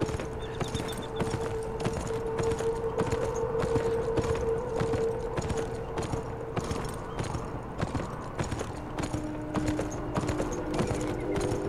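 Horse hooves clip-clopping at a steady walking rhythm during a ride in the video game Beyond Two Souls, with a continuous game ambience hum underneath and no talking.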